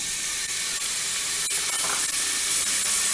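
Onion sizzles in hot oil in a pressure cooker, a loud, continuous frying hiss with faint crackles and no talking.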